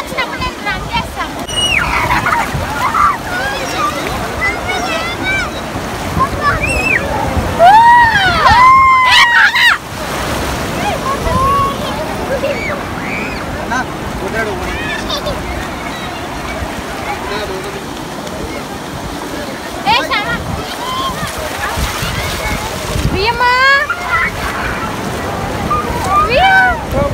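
Sea waves wash and surge at Baga beach in Goa, a steady roar of surf with wind buffeting the microphone, while excited voices and children's chatter carry over the water throughout.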